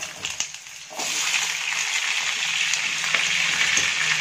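Cut pumpkin lands in hot mustard oil in a pan with a brief clatter, then a loud, steady sizzle of frying that continues evenly to the end.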